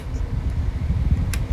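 A Tornado electric fan runs on its low setting, a steady low rumbling whir with a faint airy hiss, close and fairly loud, with one brief click near the end.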